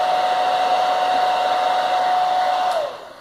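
A steady breath of air blown lightly onto eyelashes makes a close, continuous hiss with a faint whistle that lasts about three seconds before fading out.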